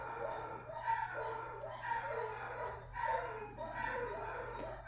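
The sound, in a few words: dog barking and howling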